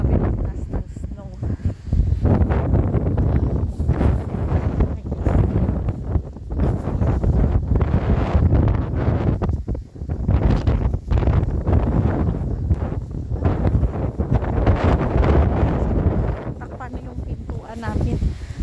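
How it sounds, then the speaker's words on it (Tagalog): Strong gusts of wind in snowy weather batter the microphone in loud, roaring bursts, almost without pause, drowning out most other sound. "Grabe kasi yung hangin."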